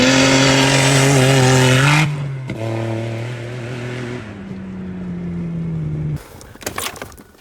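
A loud prerunner Subaru engine runs up close, its steady low harmonic drone shifting pitch a few times before a burst of broadband rattle at the end, with no talking.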